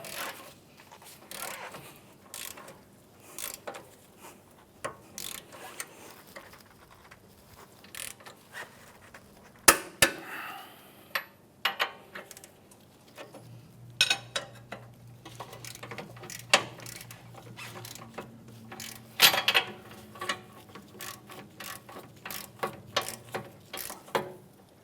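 A torque wrench ratcheting on 24 mm strut bolts of a 2007-2013 Acura MDX, steady clicking in short bursts with metallic taps and handling noises, close up, with a low hum partway through and no talk.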